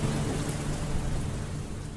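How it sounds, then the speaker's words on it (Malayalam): Rain falls steadily outside, a continuous soft broadband hiss of drops hitting surfaces at even loudness throughout, with no voices. "പുറത്ത് മഴ തുള്ളി തുള്ളിയായി പെയ്യുന്ന സൗണ്ട്"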